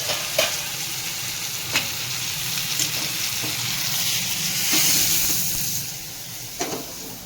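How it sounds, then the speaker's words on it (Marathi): Tomatoes frying in oil in a kadhai for tomato chutney, a constant close sizzle broken by sharp scraping knocks of a spoon stirring the pan every second or two. "टमाटे आता फ्राय करून घेतो आहे"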